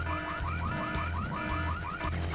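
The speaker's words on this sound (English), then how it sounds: "who set off the alarm, Floyd?" A car alarm blares in the Full Throttle Remastered video game, a loud repeating electronic whoop that cycles in rapid sweeping pulses over a low steady tone, continuous and unaccompanied by speech.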